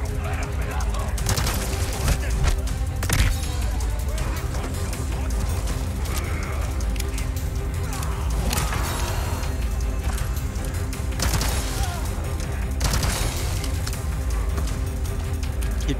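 Rapid SMG bursts fired in Resident Evil 4 Remake's Mercenaries mode, loud repeated volleys of automatic gunfire with sharp impacts throughout, over game music and a talking voice.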